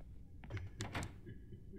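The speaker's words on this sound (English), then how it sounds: "This door's stuck. It won't open." Stuck door in the horror game Yuppie Psycho, a few quiet knocking rattles and thunks in quick succession, faint and brief against low background hum.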